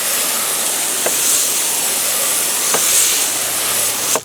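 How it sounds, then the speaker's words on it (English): Steady, loud hiss of a pressure water spray rinsing Purple Power degreaser off a tire, running continuously with slight surges. "I'll rinse it off"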